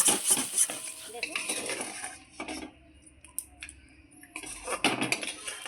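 Fried dried lotte fish is lifted out of a pan, with close metallic clinks and scrapes of a utensil against the pan and a light sizzle underneath, clustered near the start and end.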